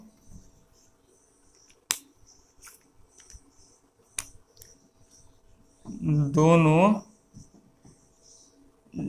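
A pen writes out the solution to a class 10 coordinate geometry maths problem. Faint scratching comes with a few sharp taps, and a voice speaks briefly partway through.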